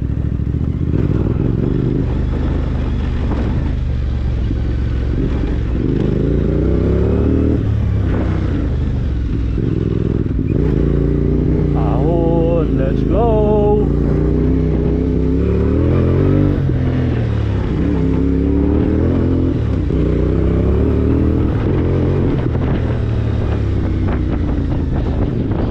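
A CFMOTO 450MT motorcycle labors along a mountain dirt trail, its engine droning loudly and continuously with rising and falling revs, mixed with heavy wind buffeting on the microphone and no clear talk.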